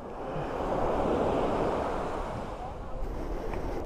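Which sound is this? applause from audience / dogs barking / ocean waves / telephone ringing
ocean waves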